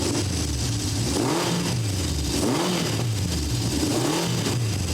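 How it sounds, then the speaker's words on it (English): A 1970 Honda CB750 inline-four motorcycle engine runs loud and close, revved repeatedly in smooth rising and falling sweeps about once a second, alone. "This is my 1970 750 Honda. I've had it for many, many years now. I'm going to start it up for you."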